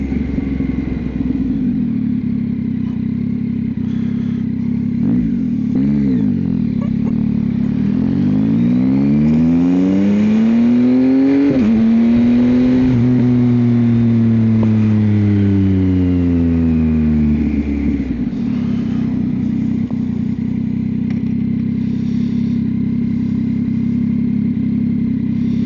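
Yamaha XSR900 motorcycle fitted with a Kelpie exhaust, riding up a twisty mountain road, its engine note climbing and falling through rising revs and gear changes, loud and continuous with no talk.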